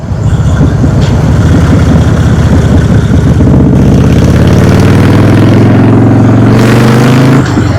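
A motorbike engine revs hard on a road, loud and close, its droning pitch climbing steadily through repeated rising sweeps as the bike accelerates, with heavy wind buffeting throughout.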